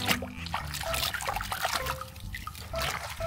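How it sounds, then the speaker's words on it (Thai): A toy figure dipped and rinsed in water, close splashing, trickling and dripping sounds with light sloshing throughout. "ลงไปในน้ำนะครับ"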